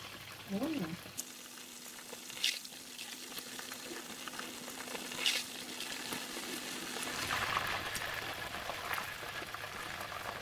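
Onions fry in hot oil for curry-powder fried chicken, a steady sizzle that swells later on, with a few clinks of a utensil and no talking.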